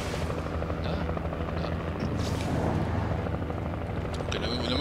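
A helicopter in the video game Alan Wake hums with a steady rotor drone under busy game sounds, with faint booms and a voice talking over it.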